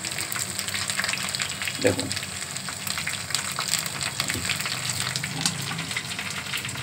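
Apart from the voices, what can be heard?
fish in egg, cornflour and flour batter frying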